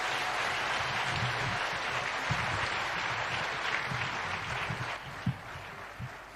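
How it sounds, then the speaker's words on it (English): Sustained applause fills a large hall as the President of Kenya is welcomed at a public event, a steady dense roar of clapping from a big crowd with occasional louder claps up close. "help me with applause to welcome the President of the Republic of Kenya, Dr. William Samoei Ruto"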